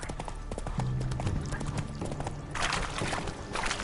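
A horse gallops in the Witcher 3 video game, with quick, rhythmic hoofbeats close by and a short whinny, the pounding steady throughout.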